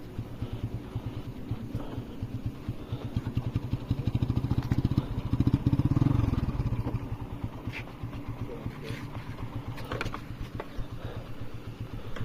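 A TVS Apache RTR motorcycle putters along at low speed on a road near Cox's Bazar. The engine throbs steadily and swells briefly in the middle, with some clatter and no speech.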